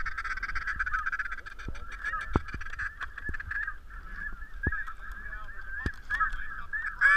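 A large flock of wild ducks, wigeon, mallards and pintails, calls continuously nearby, a dense chatter of whistles and quacks with occasional sharp distinct calls standing out from the mass.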